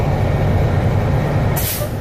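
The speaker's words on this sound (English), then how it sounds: "the next test we're gonna do is we're gonna press down the brake" Air brake system on a semi tractor during a pre-trip air check, a steady loud hiss of air running throughout with a sharper burst of release near the end, no speech.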